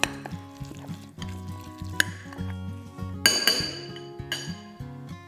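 A bowl of tuna salad with salt, dried garlic, hot pepper and lemon juice is stirred, making light clinks and taps of a utensil against glass over soft mixing sounds, with a couple of sharper knocks.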